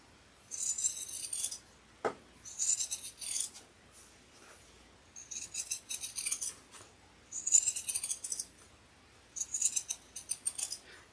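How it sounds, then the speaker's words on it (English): Pinking shears snipping through fabric in repeated bursts of crisp, rasping cuts, grouped in short runs with pauses between, close and fairly quiet, with one duller thud partway through and no speech. "I'm going to get my pinking shears, and I'm going to pink it to 1/8 of an inch all the way around except the top opening"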